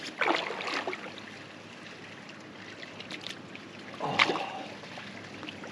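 Water in a natural hilltop hot spring, flowing and splashing softly, with two louder sloshing bursts as someone moves through it, near and fairly quiet, with no voices.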